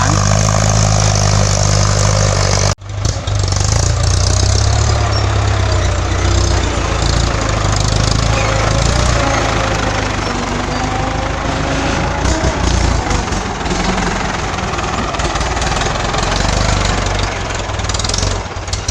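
An old, hard-working tractor engine runs steadily while ploughing a rubber plantation, a loud, close, continuous low drone with little variation.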